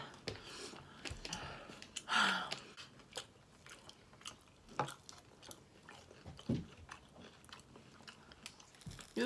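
Close, crisp crunching as someone chews crunchy food, with scattered bites and mouth sounds and occasional soft breaths.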